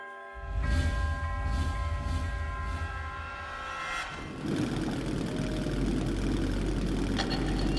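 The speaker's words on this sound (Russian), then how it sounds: "Эй, вы на дрезине! Глуши мотор!" Draisine motor idling in a Metro 2033 Redux subway tunnel: a steady low engine rumble with droning hum, shifting to a rougher, busier mechanical texture partway through, continuous and fairly close.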